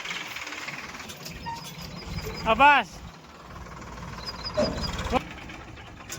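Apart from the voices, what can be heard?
tractor engine arriving to haul grass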